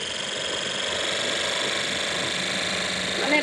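A motorcycle engine in the racing video game Cafe Racer drones steadily and evenly throughout, a continuous, fairly loud buzzing hum with no pauses.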